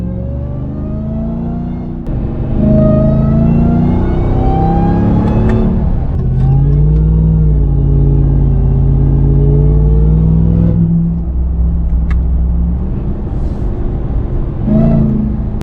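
Ram TRX pickup fitted with a CPS cold air intake accelerating from inside the cab, a loud engine roar rising in pitch with a supercharger whine building under the throttle, easing off and returning near the end.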